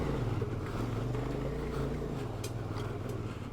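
A CFMOTO Ibex 450 motorcycle's engine drones and pulses steadily, close and loud, as the bike picks its way over loose rocks in a Death Valley slot canyon, with the rear wheel spinning.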